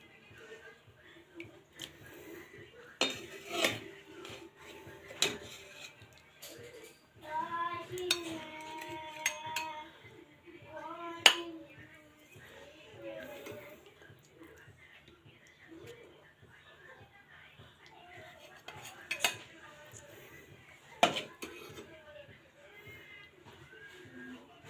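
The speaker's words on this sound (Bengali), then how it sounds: "এই তো এখন ঝোলটা আমি পরিবেশন করে দিব।" Utensils scrape and clink against dishes as rohu fish curry with potato, onion, tomato and green chillies is served, producing scattered sharp taps and chinks under intermittent talking.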